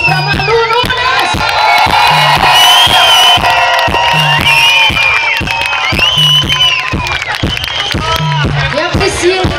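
A crowd at a show in a carnival street bloco cheers and shouts loudly for a band member, with voices whooping over a steady, thumping drum beat throughout.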